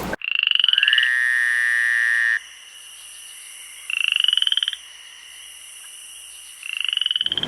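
Green tree frogs and gray tree frogs in a backyard give loud, sustained nasal croaking calls in long pulsing bursts, close and alone, with a bright insect-like hum behind.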